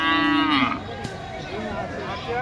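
A cow moos at a busy cattle market in Kishoreganj where Eid sacrifice cattle are sold, one long close low moo at the start, then crowd murmur fills the rest.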